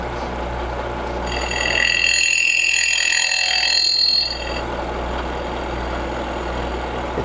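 A milling machine cutter sings with chatter during a climb-milling finishing cut on a part whose sides are not held solidly. A high, ringing, multi-toned whine rises over a steady low machine hum for about three seconds, then stops.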